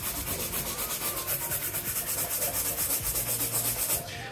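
Steady, vigorous hand rubbing of a leather shoe during polishing, a continuous brushy friction with rhythmic strokes, close and fairly loud, with no talk.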